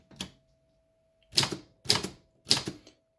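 Typing on a Torpedo 18 manual typewriter: one key strike, a pause, then three crisp, snappy bursts of clacks at an even pace, close and fairly loud, with no talking.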